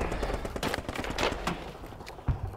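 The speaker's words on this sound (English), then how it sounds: "We've encountered the enemy on Sector 78 in the form of MG nests and mortar fire." Machine gun and mortar fire in a war film, a dense rattle of rapid gunshots with booming impacts, loud and continuous across the short stretch.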